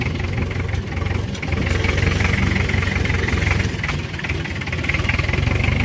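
A homemade tractor with a Ch 4.85/11 diesel engine chugs with a continuous knocking rumble as it drives out for firewood, loud and close throughout with slight dips in level.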